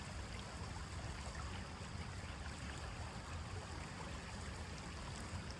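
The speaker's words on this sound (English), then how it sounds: "babbling creek," A creek babbles and ripples steadily, a continuous wash of running water with no voices.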